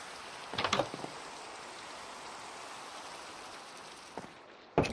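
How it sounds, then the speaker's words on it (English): Rain falls steadily in Minecraft as a soft, even hiss through the whole stretch, with a few brief louder clatters of game sounds standing out over it. "Hope the rain goes away in the morning."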